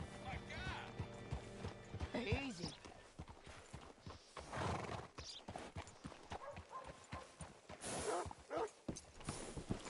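In Red Dead Redemption 2, horse hooves clip-clop at a walk while a horse whinnies, and someone speaks briefly over the steady hoofbeats.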